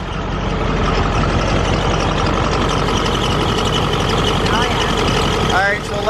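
A lifted Ford F-350 dually pickup idles up close with a steady, heavy engine rumble, a chirping drive belt riding over the top of the running motor.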